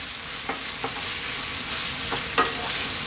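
Tomato paste and crushed tomatoes sizzle steadily in a pan over medium-low heat, with a few soft scraping stirs cutting through the constant frying hiss.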